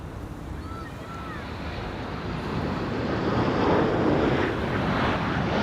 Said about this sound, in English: this is Air Canada, flight 900 by the looks of it,